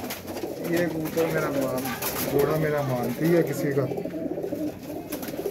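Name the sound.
pigeons in a loft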